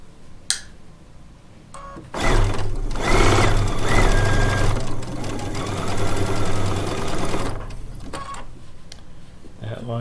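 A sewing machine stitches charm pack quilt pieces at a 1.8 mm stitch length, running in one steady, loud burst of about six seconds, with quieter handling noises before and after.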